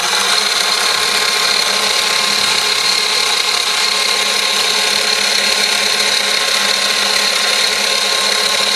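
Milling cutter running at fast speed as it machines a part for a model steam engine, a steady loud whining hum with a high machine tone, continuous and even throughout.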